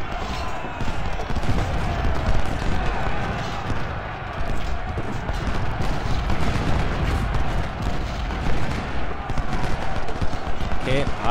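Cannon and rifle fire in the strategy game Ultimate General: Civil War during the Battle of Stones River: a continuous dense din of battlefield gunfire and booming artillery that runs steadily for the whole stretch.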